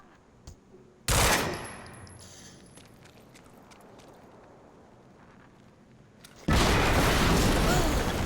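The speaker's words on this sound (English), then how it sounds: "we just heard an explosion near the harvesting perimeter." Explosions in the video game Quantum Break: a loud sudden blast followed by a long fading rumble, then a second heavy burst near the end that stays loud and noisy.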